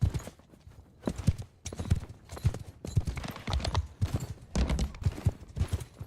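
Rapid, rhythmic hoof clip-clops of a galloping horse in a competitive online video game, loud and close with bursts of gunfire-like cracks mixed in.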